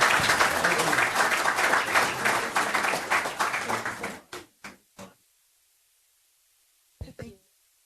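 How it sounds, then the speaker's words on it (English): A room full of people applauds steadily at a city council meeting, the dense clapping fading out after about four seconds into a few scattered final claps, then a short clap burst near the end. "One more round of applause, please."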